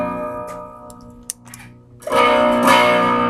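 A Photon Phuzz fuzz pedal drives an electric guitar through a small clean Fender amp, with a sustained buzzing tone followed by a loud, thick fuzzed chord that rings out up close.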